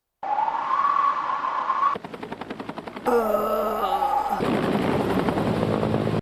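Helicopter rotor sound effect from the Sailor Moon anime, a loud steady chopping whir with rhythmic pulsing, broken into distinct segments with abrupt cuts and a brief tonal passage between them.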